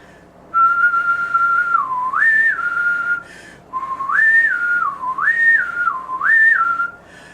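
Someone whistles a clear, steady tune close by, sliding between a few notes in two phrases with a short pause between them.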